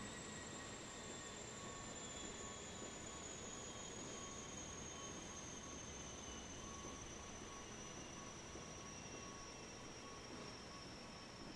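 A jet airliner engine in Microsoft Flight Simulator, an Airbus A320, drones steadily with a high, slowly falling whine over a low rumble. It stays faint and continuous throughout, with no voices.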